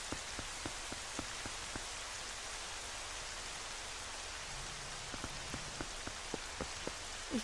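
Rain falls steadily at Hyrule Castle in Twilight Princess, a soft continuous hiss with scattered sharp drip taps, quiet and with no talk.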